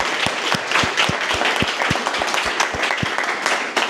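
Audience applause at a live tech meetup, steady dense clapping from a crowd filling the space, loud and continuous with sharp individual claps standing out throughout.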